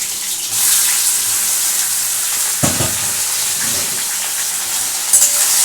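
Shrimp sizzle steadily in hot oil in a frying pan, a constant close hiss broken by a brief stirring clatter midway.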